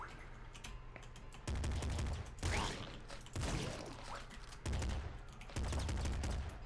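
Rapid bursts of gunfire from the top-down shooter game Nuclear Throne, near and loud, coming in dense runs of shots with brief gaps, over a steady game soundtrack and no talk.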